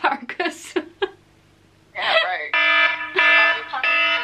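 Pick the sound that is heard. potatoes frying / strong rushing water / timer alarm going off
timer alarm going off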